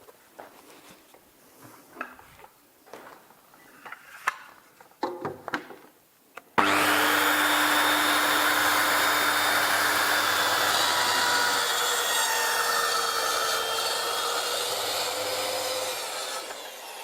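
A circular saw rips through solid wood. Several seconds of quiet knocks and handling come first, then the blade starts with a sudden loud, sustained whine that holds steady while cutting and eases slightly near the end.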